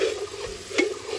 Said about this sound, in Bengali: এটা এরকম কন্টিনিউ নেড়ে যেতে হবে